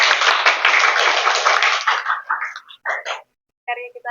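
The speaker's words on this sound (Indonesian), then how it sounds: "Oke, tepuk tangan dulu buat kalian semua." A group of students clapping hands in a classroom, a close burst of brisk, dense applause lasting about two seconds that quickly thins to a few scattered claps, followed by brief voices.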